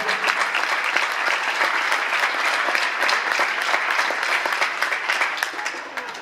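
Applause at a political rally in Argentina, a loud continuous wash of clapping from a large crowd, steady throughout and tapering slightly at the end.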